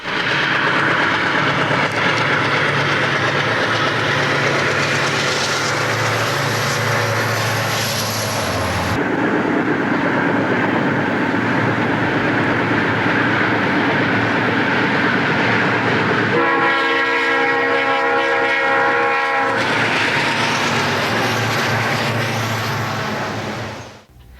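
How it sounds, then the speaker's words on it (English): A Detroit Edison empty coal train led by a U-30C locomotive rumbles past close and loud, its steady roar of diesel and rolling cars broken by a long blaring horn blast midway before the heavy clatter resumes. "a Detroit Edison empty coal train heads south for another helping of black diamonds. This empty train has a U-30C on the point"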